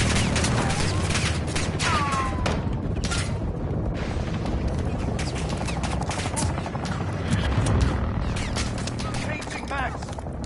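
Helicopter gunship firing in Call of Duty Modern Warfare 2, a dense, continuous barrage of rapid gunfire and booming impacts mixed with mechanical whirring, loud and close throughout, with radio chatter heard at moments.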